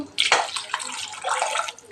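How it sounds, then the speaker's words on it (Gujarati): A short splash of water pours into a pot, a quick gush that settles into a softer trickle. "આપણે પાણી નાખી દઉં."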